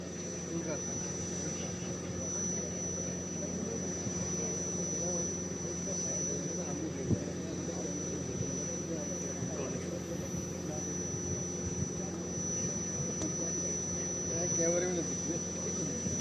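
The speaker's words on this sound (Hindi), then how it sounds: "अंबाला एयरबस से लाइव रफाल विमान महामहिम की उड़ान।" Rafale fighter jet engine at Ambala air base, a steady, unbroken droning roar with a thin high whine running throughout, heard at a distance with faint background murmur.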